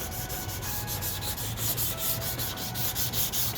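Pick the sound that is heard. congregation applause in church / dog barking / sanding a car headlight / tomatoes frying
sanding a car headlight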